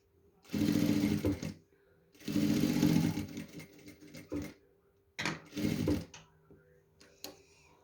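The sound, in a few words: sewing machine stitching white ribbon strips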